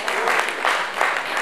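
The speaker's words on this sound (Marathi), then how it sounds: "जोरदार तालियां." Applause from an audience at a music and dance show, welcoming a singer to the stage: a steady wash of clapping in several swelling waves, fairly close and full, with no voices over it.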